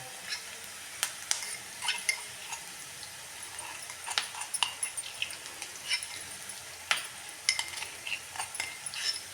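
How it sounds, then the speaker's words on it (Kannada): Onions frying in a pan with garlic chili paste, giving a soft steady sizzle with scattered clicks and scrapes of stirring throughout, moderately close and unaccompanied by any voice. "ಈ ಬೆಳ್ಳುಳ್ಳಿ ಖಾರ ಮಾತ್ರ ಹಾಕೊಂಡ್ಬಿಟ್ಟು ನಾವು ಚೆನ್ನಾಗಿ ಫ್ರೈ ಮಾಡ್ಕೊಳ್ಳೋಣ"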